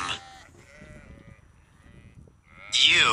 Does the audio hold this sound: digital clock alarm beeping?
no